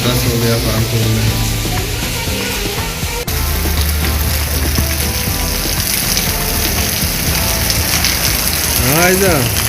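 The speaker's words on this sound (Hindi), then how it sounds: "बहुत ज़बरदस्त बारिश हो रही है।" Heavy rain pours down in Kanpur as a dense, steady hiss that fills the whole clip, with tonal traffic or street sounds mixed in and a rising-and-falling whine near the end.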